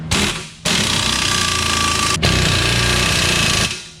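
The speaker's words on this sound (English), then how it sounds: "the last thing we're going to do is tighten up all the bolts." Loud, close rattling bursts from a power impact tool tighten bolts on a Honda Element lift kit, a short first burst followed by two long continuous runs separated by a brief pause.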